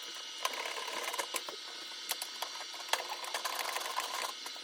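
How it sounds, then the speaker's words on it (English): A screw is driven into a Samsung gas oven during an igniter replacement, a steady whirring ratchet with irregular small clicks and ticks repeating over several seconds, close and fairly quiet, with no talk. "Let's go back up top and screw this in."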